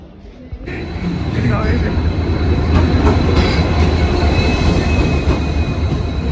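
A train arriving at a station rumbles steadily with low, continuous wheel and engine noise, fairly loud and close, with faint high squealing tones riding over the roar.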